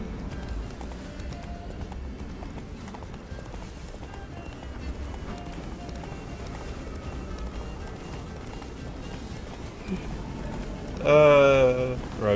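Roach the horse gallops in The Witcher 3, a steady drumming of hoofbeats running under continuous talk, with a short loud neigh bursting in near the end.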